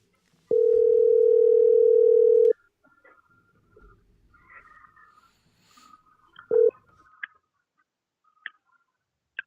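A telephone dial tone rings steady and loud for two seconds and cuts off, then a quieter stretch of faint clicks and short beeps follows as a number is dialed.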